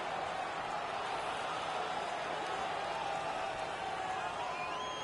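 Crowd in a hockey arena in NHL 17, a steady, faint wash of cheering and murmuring spectators with a thin whistle-like tone rising near the end, constant throughout with no break.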